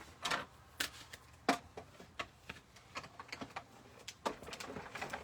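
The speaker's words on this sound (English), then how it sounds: "run this through the cut and emboss machine real quick" A tabletop cut and emboss machine runs while making a handmade card, giving a close series of irregular sharp clicks and taps with short pauses between them.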